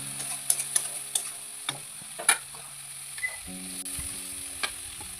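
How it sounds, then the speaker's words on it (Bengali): Spice paste frying and being stirred in oil for a potato fish curry, a quiet close sizzle punctuated by sharp clicks and taps of a spoon against the pan, with no talking. "ভালো করে নাড়াচাড়া করে নেব যতক্ষণ পর্যন্ত না মশলা গা থেকে তেলটা"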